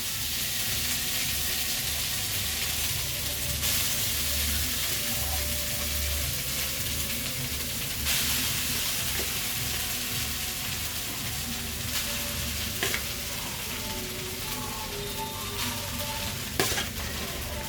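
Poha, flattened rice, fries in a pan (kadai) with a soft, continuous sizzle and occasional stirring scrapes, fairly quiet and with no voices.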